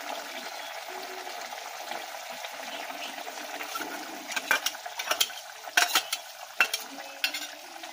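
Mustard and poppy seed paste is stirred into a simmering hilsa fish curry in a pan: soft, steady bubbling at first, then a run of irregular spoon scrapes and clacks.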